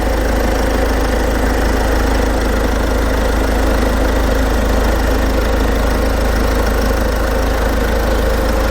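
The diesel engine of a Genesis GV70 idles with the hood open, a steady loud low rumble with faint knocking and vibration heard close up, unchanging and free of talk.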